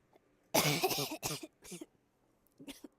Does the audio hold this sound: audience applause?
no